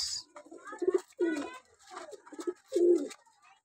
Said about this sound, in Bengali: গরিবের পায়রা পাখি পেলেছি